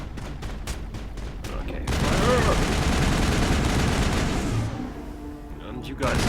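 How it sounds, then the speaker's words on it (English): Assault rifle gunfire in the Mass Effect video game, a burst of rapid loud shots following sharp separate cracks, with someone briefly speaking over the action. "No, I'm actually gonna use the assault rifle."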